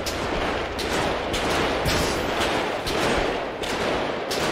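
Repeated gunfire in Grand Theft Auto V, with dense, rapid bursts of shots that continue without a break and stay loud and close throughout.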